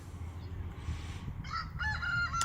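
Chickens on a farm, in a building due to be cleared out, cluck and squawk in bursts over a steady low barn rumble, the calls grow louder and more overlapping toward the end.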